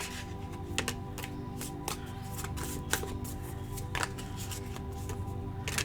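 Tarot cards are shuffled and drawn close by, with a continuous riffling rustle broken by crisp snaps and flicks, no speech.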